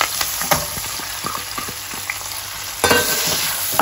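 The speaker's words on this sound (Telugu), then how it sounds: "ఏవైతే ఆనియన్స్ ఉన్నాయో అవి వేసేసుకోవాలి" Onions fry in a pan with mustard seeds and fenugreek powder, sizzling loudly and steadily while a utensil scrapes and stirs them in repeated strokes.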